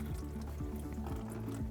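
Water gurgling and trickling from the disconnected braided hose of an Electro Freeze pressurized machine, a brief close, steady flow with bubbling pitch shifts.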